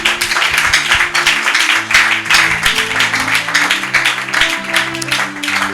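A church congregation claps together in response to a preacher's call to praise God's power, a steady dense patter of hands over sustained music.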